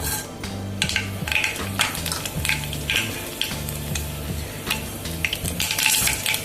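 Mustard seeds fry in hot oil for a Kerala-style varaal fish roast, giving a steady close sizzle with frequent crackling pops, plus a faint low humming tone in the background.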